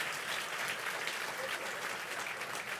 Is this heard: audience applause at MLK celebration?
yes